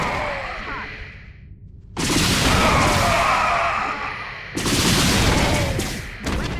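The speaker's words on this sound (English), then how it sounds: "we're going to cloak our Banshees and engage them with our area effect missiles" Area-effect missiles fired by cloaked Banshees in StarCraft 2 hit with loud, broad explosive bursts, two big blasts and a shorter third, over a steady bed of game combat noise.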